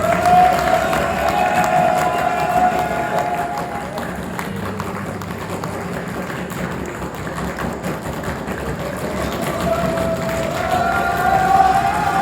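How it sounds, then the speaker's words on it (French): Audience at an eloquence competition final in Joué-lès-Tours applauds and cheers as a contestant is called up, a steady wash of clapping and cheering that swells again toward the end, with no talking over it. "On peut applaudir Monsieur Yanis Magouni."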